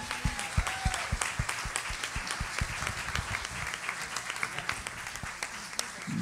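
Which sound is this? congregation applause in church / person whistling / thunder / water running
congregation applause in church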